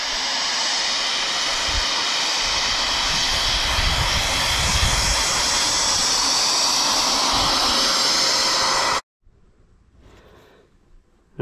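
A 34-inch hydroplane boat driven by a 90mm 14-blade electric ducted fan on 4-6S power runs with a loud, sustained high-pitched whine and rushing hiss for about nine seconds, then drops away sharply.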